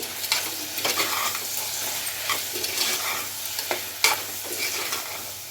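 Bitter gourd being stirred in a pot with coarse salt, scraping and sizzling strokes repeating at an uneven pace, close and moderately loud.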